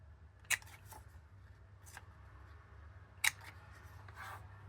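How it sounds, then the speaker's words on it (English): A corner rounder punch snaps through Traditions of Christmas patterned paper twice, two sharp crisp clicks a few seconds apart, close and distinct over a quiet room with faint handling rustles between. "I am going to corner round it."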